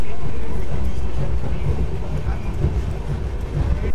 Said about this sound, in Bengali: হাওড়া থেকে দীঘা যাওয়ার তাম্রলিপ্তর মর্নিংয়ের ট্রেন হচ্ছে বেস্ট ট্রেন